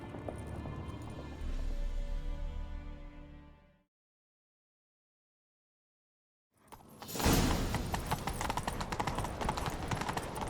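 Rapid hoofbeats of a galloping horse in the video game The Witcher 3: Wild Hunt, then a few seconds of silence before hurried hooves and rushing motion return, loud and busy.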